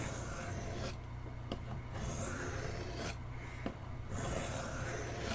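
Steel blade of a Camillus electrician's knife rasping back and forth on a sharpening stone, in steady close strokes with brief pauses between passes.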